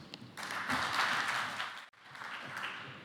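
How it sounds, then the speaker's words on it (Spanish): An audience at a naval industry workshop applauds, a dense wash of clapping that swells, breaks off briefly near the end, then resumes more softly. "Lo vamos a recibir, por favor, con un gran aplauso."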